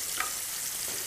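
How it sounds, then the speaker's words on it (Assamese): Ingredients frying in a pan for a vegetable dish, a steady bright sizzle with a small stirring scrape at the start, close and even throughout with no speech. "অকণমান কমকৈ ভাজি ল'ম, বহুত বেছিকৈ নাভাজে"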